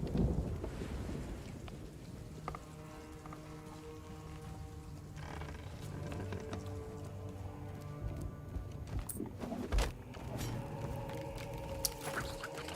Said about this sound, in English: That storm's getting awful close now. Starting to see some rain.